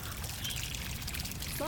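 Water pouring steadily from a garden hose while a manatee drinks from the stream, a continuous rushing splash filling the whole moment, close and fairly loud.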